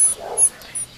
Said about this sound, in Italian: guardate che meraviglia di cucciola